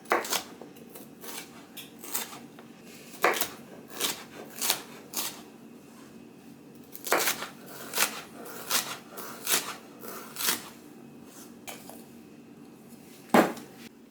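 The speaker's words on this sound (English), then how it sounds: "let's get some nice slices going here" Vegetables being sliced with a knife on a cutting board, giving a series of crisp, separate chops in an uneven rhythm against a quiet background. The cuts are close and fairly faint, with no talking.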